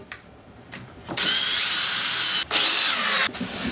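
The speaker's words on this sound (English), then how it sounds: "put our 3rd pilot hole in" A power drill bores a pilot hole in wood while building a bathtub caddie, starting with a few short trigger bursts, then running in loud, close sustained whirs broken by two brief pauses.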